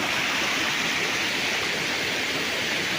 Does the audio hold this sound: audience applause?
no